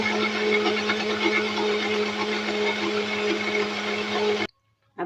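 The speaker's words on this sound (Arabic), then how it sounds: "انا بوريكم القوام هو في الخلاط، وهو بيتضرب في الخلاط" Tahini grinding in an electric blender gives a steady, loud whirring hum with a strong motor drone for about four and a half seconds, then cuts off abruptly, followed by a brief faint sound.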